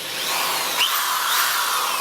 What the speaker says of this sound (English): I have this fixed, and the drill is gonna rotate